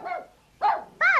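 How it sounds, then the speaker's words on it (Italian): A cartoon dog barks three times close by, short loud yelps separated by brief pauses, with no talking. "Lisa, il cane sta abbaiando!"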